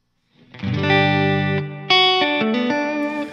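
Sustained, chord-like electric instrument tones run through the hall reverb mode of a Strymon BigSky pedal, swelling into a long wash, then restruck notes that ring with a lingering, spacious tail.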